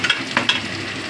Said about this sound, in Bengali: এবার দিয়ে দিচ্ছি টমেটো।